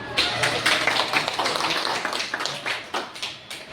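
At a monthly party meeting, an audience claps to welcome a guest, a scattered, moderately faint patter of hands with uneven bursts and no speech over it.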